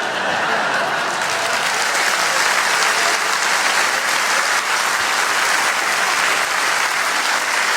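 A hall audience of party supporters at a Swiss UDC political debate applauds steadily throughout, a dense, sustained wash of clapping with no break.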